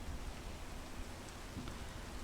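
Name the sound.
rain in the video game PEAK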